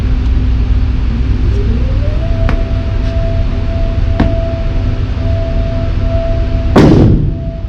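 A Ruger SR45 .45 pistol fires at a range, one sharp loud report near the end over a steady droning rumble, with a couple of fainter distant cracks earlier.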